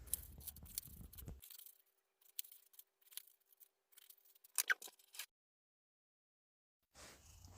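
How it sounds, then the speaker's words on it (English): Scissors slice a plastic bottle into strips with a run of crisp close snips and crackles, pausing in stretches of silence between bursts of cutting. "Cut the side into strips."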